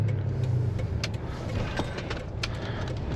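A 2016 Toyota Tundra 1794 Edition pickup with a 5.7L V8 drives along with a steady low engine drone and road rumble from inside the cab, light rattles and clinks of loose items scattered over the hum.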